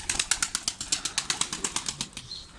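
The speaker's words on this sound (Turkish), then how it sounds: "Kanat sesleri yerinde." An injured white pigeon flaps its wings in flight, producing about a dozen fast, even, close wingbeats that fade toward the end.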